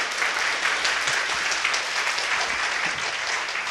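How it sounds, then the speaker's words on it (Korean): Congregation applauding inside a church during a mothers' prayer meeting, a dense, steady wash of many hands clapping at close range, sustained evenly for the whole few seconds with no voices standing out. "박수로 표현하는 것입니다."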